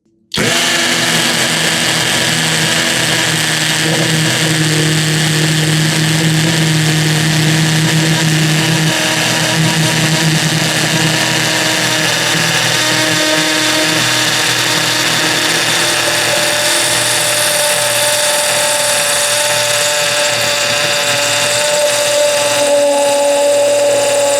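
A Hanabi LJ-2023 cordless drill bores into a solid concrete block, a loud, continuous motor whine with grinding undertones that starts abruptly and holds steady for over twenty seconds, its pitch shifting slightly partway through.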